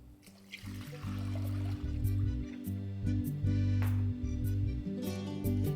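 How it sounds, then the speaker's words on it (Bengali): Full-fat milk is poured from close by into a pan of hot water for sandesh, a steady liquid stream with gurgling and bubbling that runs almost the whole time. "তারপর জলটা একটু গরম হলেই দুধটাকে এখানে আমি ডাইরেক্টলি দিয়ে দেবো।"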